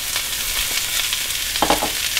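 Onions sizzling and spitting in hot olive oil in a pan, a steady close crackle with a spoon scraping through them near the end.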